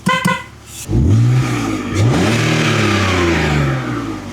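A BMW E46 car engine runs loudly up close, rising and settling in pitch before holding a steady idle hum.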